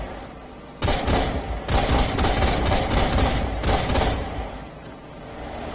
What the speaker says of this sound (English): you see that really fast rate of fire